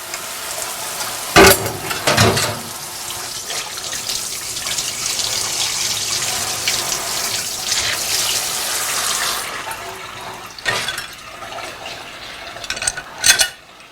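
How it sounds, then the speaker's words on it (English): Running tap water rinses something off, a steady close hiss of flowing water lasting several seconds, framed by a few sharp clunks and knocks before and after. "We're going to rinse off the front. And we're going to rinse off the back."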